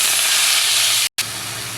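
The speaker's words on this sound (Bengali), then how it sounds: "এই যে ধুয়ে রাখা শাকটা এর ভিতরে দিয়ে দেবো। কড়াইয়ের ভিতরে" Washed leafy greens hit hot oil in a wok with a loud, dense rushing sizzle that holds steady, breaks off abruptly for an instant, then resumes slightly softer.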